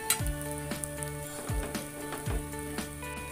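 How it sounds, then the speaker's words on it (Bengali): Eggplant frying in hot oil in a pan, a steady close sizzle with a few louder crackling bursts and occasional stirring scrapes, no talking. "তো আমি এবার এই তেলে বেগুন ভাজবো।"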